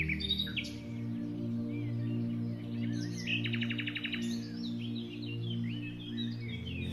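Birds sing outdoors during an open-air yoga session, a steady run of bright chirps and a quick trilling burst over a constant low hum, moderately close and clear with no talking.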